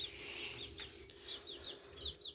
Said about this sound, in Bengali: আমার মুরগির বাচ্চাগুলো অনেক চঞ্চল এবং ঝরঝরা আছে।